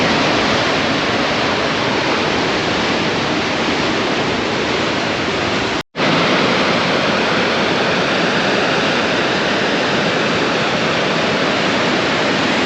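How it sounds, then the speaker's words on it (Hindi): The Ganges falling as a waterfall at Surya Kund near Gangotri in the Himalaya: a loud, constant broadband roar of rushing water, close and unbroken apart from one momentary dropout, with no voices. "यहाँ पर गंगा माता ऊपर से आती हैं और एक धारा के झरने के फॉर्म में यहाँ गिरती हैं।"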